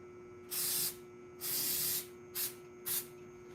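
Cleaner sprays during a Lamborghini oil change in four short hissing bursts, two longer and two quick, close and fairly loud against a quiet background hum.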